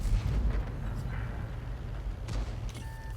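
Tank cannon fire in a video game, a German Scorpion blind firing at a lost target: a heavy low boom opens, then rumbling battle noise with another burst near the end.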